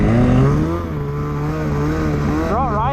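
A Polaris 850 snowmobile engine fitted with an SRP clutch kit drones loudly and close as it climbs, holding a steady high pitch before a sharp rev surge near the end.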